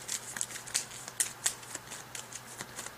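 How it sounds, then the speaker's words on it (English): Discard pile of cards being shuffled during a game of Thunderstone Advance: Towers of Ruin, a tabletop deck-building game: quick, close riffling and snapping bursts in an irregular rhythm, fairly quiet, with no talking. "Shuffle up my discard pile."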